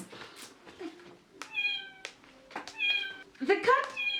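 A person imitates a cat, giving several short, high meows and a drawn-out mewing cry, fairly quiet and close.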